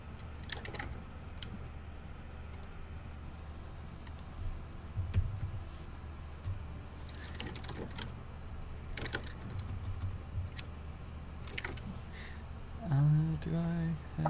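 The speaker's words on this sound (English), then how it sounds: "I hear typing." Typing on a computer keyboard sounds faintly in a room during a tabletop RPG session, with scattered irregular key clicks under low background noise and a brief sound near the end.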